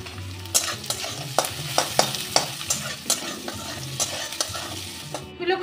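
Onions and asafoetida sizzle steadily in hot mustard oil, with bay leaf and cumin tempering, as a spatula scrapes and stirs the pan in repeated sharp clicks over the continuous frying hiss.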